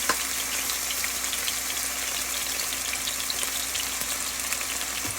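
Boneless basa fish fillets searing in a hot pan, a steady, close hiss and sizzle of frying oil that holds evenly with no talk over it.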